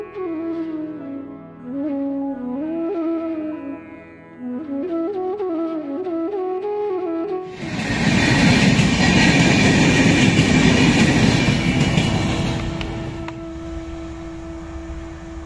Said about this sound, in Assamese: এখন গ'ল ৰাজধানী।